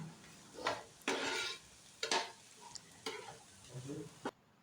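Onions with turmeric and salt sautéed in a pan, with several separate bursts of spoon stirring and scraping against the pan over a quiet, faint sizzle.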